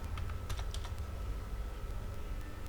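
Computer keyboard typing while withdrawal details are entered at a Bank of Maharashtra customer service point: a quick burst of close key clicks early on, then sparser taps over a steady low hum, with no talking.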